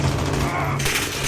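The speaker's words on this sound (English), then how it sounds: "Where's that guy shooting from?" Dense gunfire in a Call of Duty Modern Warfare multiplayer match, with loud rapid shots crowding together throughout a short burst. A voice is heard speaking over the fire.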